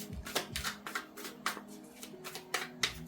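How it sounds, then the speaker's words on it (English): Tarot cards shuffled by hand during a reading, a series of sharp riffling bursts and soft slaps in an uneven rhythm, close up and fairly quiet, with no talk over them. "I keep shuffling the card upside down."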